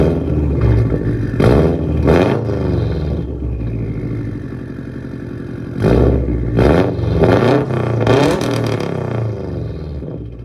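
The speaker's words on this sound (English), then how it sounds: "just a little throttle blip" A Subaru WRX STI with a catless downpipe is revved in two loud bursts, each rising to a harsh, raspy roar with crackling overtones and dropping back to a rumbling idle between them, close and without talk.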